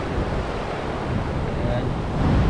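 Ocean surf washes against a rocky shoreline at high tide, a continuous roar of waves mixed with wind buffeting the microphone, loud and close, with a voice speaking faintly beneath.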